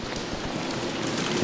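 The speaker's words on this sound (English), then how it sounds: "It's raining" Steady rain in New Orleans hisses and patters continuously at close range, a dense wash of drops with no voices.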